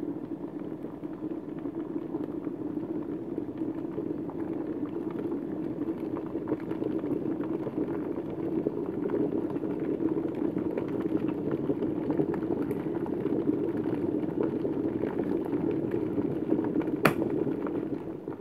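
Steady, rumbling bubbling of water boiling in an electric kettle, a continuous low roar that slowly builds, with a faint click near the end.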